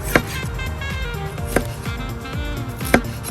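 A knife cuts a green pepper lengthwise on a board, with three sharp chops spaced about 1.4 seconds apart over steady background music.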